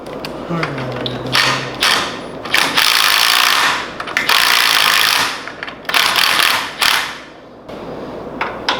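An impact wrench tightens a nut on a go-kart axle, rattling out several loud, close hammering bursts with short pauses between them.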